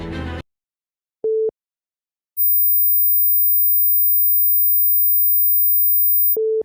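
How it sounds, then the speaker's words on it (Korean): A thin, very high-pitched steady 15 kHz whine holds for about four seconds, set between two short beeps, faint and electronic with no other sounds. "이번엔 15kHz의 고주파 소리를 들어보겠습니다."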